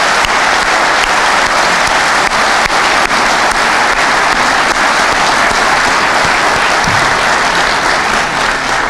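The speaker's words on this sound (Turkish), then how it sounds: "İzin verirseniz ben de burada hepinizi alkışa davet ediyorum." Sustained, loud applause from a seated audience fills a football club's ordinary congress hall, a dense steady wash of clapping with no pauses from start to finish.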